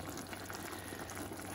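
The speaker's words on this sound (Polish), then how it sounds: "tutaj gotuję wywar na skrzydełkach dzisiaj" Broth made on chicken wings simmering in a pot, a faint, steady bubbling and hiss with a low hum beneath it, continuous and without voices.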